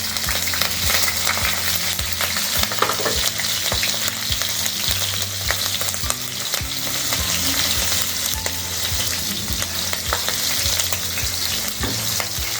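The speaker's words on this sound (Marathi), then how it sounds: "ह्या कापून मी मिरच्या टाकते" Chopped green chilies fry in hot oil in a pan for sweet potato sabzi, a steady dense sizzle running evenly throughout with faint stirring clicks and no voices.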